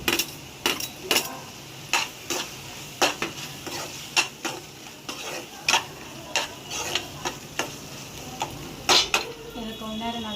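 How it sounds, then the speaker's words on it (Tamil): Tomato and green chillies fry in a pan while a spoon stirs them in a steady series of sharp scrapes and clinks against the metal, over a faint, continuous sizzle. "பாருங்கள், நல்லா ஃப்ரை ஆகிக்கிட்டே இருக்குது."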